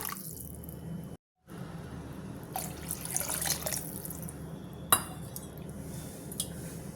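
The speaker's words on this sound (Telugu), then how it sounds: "నేనైతే ఒక రెండు కప్పులు వాటర్ వేస్తున్నాను" Water pours steadily into a metal pot for pepper rasam for a second or two, with faint kitchen clatter and quiet background hiss around it.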